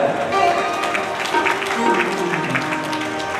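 An audience at a Bhagavat Katha gathering claps along with devotional singing, steady rhythmic hand claps under a sung melody that carries throughout.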